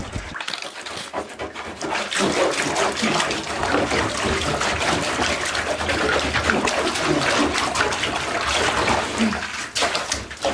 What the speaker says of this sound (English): sometimes I just place it under the water and start scrubbing